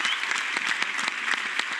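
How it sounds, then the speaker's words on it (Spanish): A television studio audience gives a short, lively burst of clapping, an even wash of many hands throughout the brief moment. "un aplauso para Kiara"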